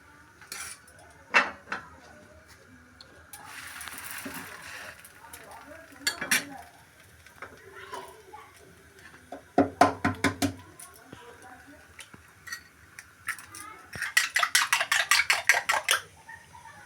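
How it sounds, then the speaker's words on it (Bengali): Egg-coated rolls fry in a pan with bursts of sizzling, mixed with utensil clinks, taps and scraping against the pan, irregular and close. "এইভাবে আমি প্রতিটা রোল ভেজে নেব"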